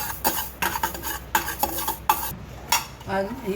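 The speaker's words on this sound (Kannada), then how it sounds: "ಮೆಂತೆ 2 ಸ್ಪೂನ್ ತೊಗೊಂಡೇನಿ, ಅದನ್ನು ಹುರಿತಾ ಇದ್ದೀನಿ." Fenugreek seeds dry-roasting with mustard seeds in a pan for mango pickle, a spoon scraping and stirring in quick bursts of close metallic clinks and rattling seed scrapes, with no talking.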